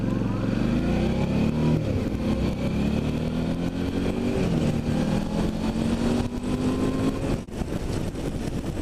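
A motorcycle ridden on county roads accelerates through its gears, the loud close engine note climbing in pitch, dropping at each shift and climbing again, with steady road and wind noise underneath.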